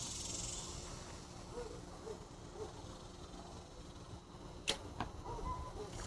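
An arrow with a cheap lighted nock is shot from a bow outdoors: after quiet background, a sharp snap of release is followed by a quick whoosh and a couple of faint thuds, fairly soft overall.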